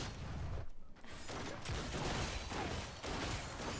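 Miss Fortune's rapid auto-attack gunshots in League of Legends, a dense and continuous crackle of game fire with brief dips, heard close and without talk.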